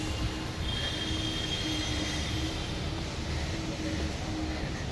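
A train at Bagalkot railway station platform, a continuous mechanical rumble with a faint sustained wheel squeal and steady hum throughout, no speech.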